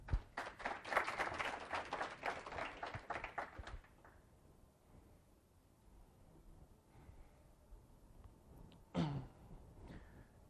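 A conference audience claps in a burst of applause lasting a few seconds that then dies away into quiet room noise, followed later by a single brief cough or throat clear.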